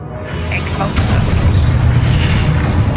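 A spell blast from Hogwarts Legacy: a dense, rumbling boom builds and rolls on for several seconds, loud and sustained, with a crackling upper layer and game effects around it.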